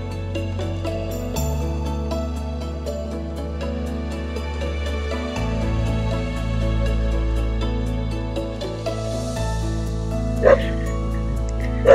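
A dog barks outside a homestay in the village of Auli, set against steady low droning background noise, with a sharper sound standing out near the end.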